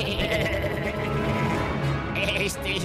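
Sheep bleating in the video game Minecraft, a wavering nasal bleat sounding close amid dense game audio, with a voice talking over it.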